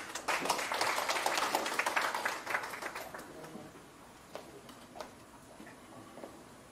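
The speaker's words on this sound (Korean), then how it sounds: "큰 박수로 맞이해 주시기 바랍니다." An audience at a municipal workshop bursts into applause to welcome the city mayor, dense clapping for about three seconds that thins to scattered claps and fades.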